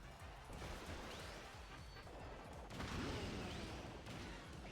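A vacant machine is smashed in Kirby Air Riders City Trial, with repeated crashing impacts and bursts layered over continuous game noise and a couple of rising whooshes, all fairly faint.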